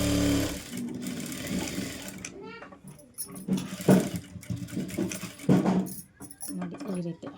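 A sewing machine stitches a blouse, first with a steady run and then in short, rapid rattling bursts separated by brief pauses, close and clear.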